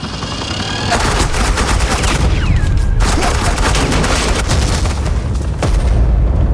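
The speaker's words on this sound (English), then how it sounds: "I said suppressing fire!" Suppressing gunfire rattles in dense, rapid automatic bursts during an action scene in the Batman: The Enemy Within video game, loud and continuous with short gaps.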